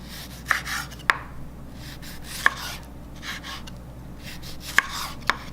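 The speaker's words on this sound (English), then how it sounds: "for the tomato I will cut them big chunk" A knife cuts a large tomato into big chunks on a board with sharp, separate chopping knocks, five or six spaced irregularly, close and fairly clear over a low background hum.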